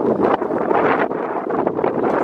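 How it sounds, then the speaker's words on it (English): Steady wind buffeting the microphone outdoors beside a 2004 Ford Expedition, a loud continuous rumbling rush with gusty swells throughout, no one speaking. "It's kind of windy."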